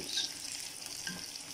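Masala-coated fish frying in a pan for a crispy fish fry, giving a soft steady sizzle throughout with faint crackles, no talking.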